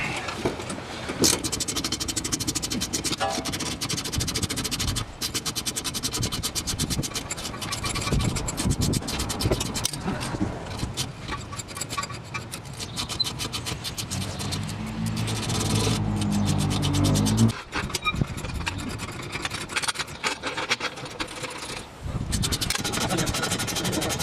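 Ratchet working loose a 14mm anti-roll bar end link bolt on a car's rear suspension during a lowering-spring and brake job: a steady, close rasp of rubbing and ratcheting metal that runs without a break.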